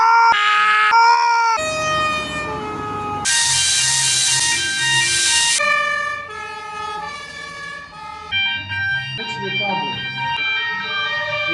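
Ambulance siren in a video game, a loud wailing tone sweeping up and down across the clip amid game music and effects.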